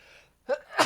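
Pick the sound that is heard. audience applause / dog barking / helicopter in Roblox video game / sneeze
sneeze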